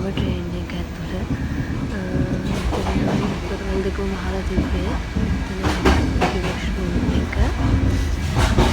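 Inside a moving passenger train on a trip to Jaffna, the carriage rattles and clatters steadily with rhythmic wheel knocks and metallic clunks, loud and close, while a person talks over the noise.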